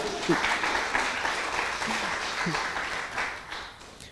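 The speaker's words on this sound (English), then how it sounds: "we can clap Beth" An audience at an evening history talk applauds Beth for her poster and marketing work, a warm, even round of clapping with a few faint voices mixed in, tapering slightly toward the end.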